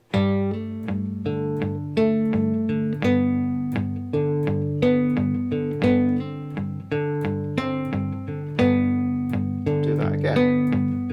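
A cigar box guitar picks out a country-folk melody on the high string mixed with double stops, a clear, close, plucked line of ringing notes at a moderate tempo with no talking.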